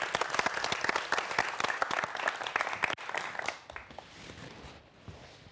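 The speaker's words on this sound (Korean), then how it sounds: "큰 박수로 환영해 주십시오" An audience claps warmly to welcome a parasitology professor to the stage for a lecture, dense applause that holds steady and then thins to scattered, softer claps, heard at a moderate distance.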